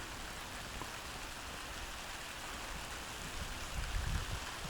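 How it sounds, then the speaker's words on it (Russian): Steady rain falls outdoors at a rural yard, a dense even hiss of drops on surfaces, moderately close, with a slight swell near the end and no voices. "А у нас пошел дождик"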